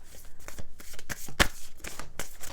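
Moonology Oracle cards are shuffled close up, a quick run of crisp riffling snaps and soft slides in an uneven rhythm, with one sharper slap near the middle.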